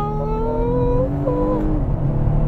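A 2019 Volvo S60 Polestar hybrid sport sedan accelerates hard, engine note rising through rapid upshifts in close, loud sweeps, with a drop in pitch as a gear change lands.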